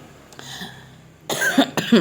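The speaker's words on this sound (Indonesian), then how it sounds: "Batuk, ini satu keluarga batuk semua" Someone coughs in a home setting, with a faint sound first and then a few harsh, close coughs clustered near the end.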